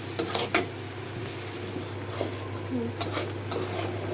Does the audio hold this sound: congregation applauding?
no